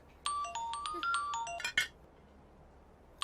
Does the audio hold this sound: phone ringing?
yes